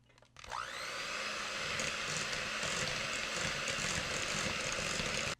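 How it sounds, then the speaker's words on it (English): An electric hand mixer whirs steadily as it beats cream filling for homemade donuts, switching on abruptly and holding a loud, constant motor drone before cutting off at the end. "I'm going to take my electric hand mixer."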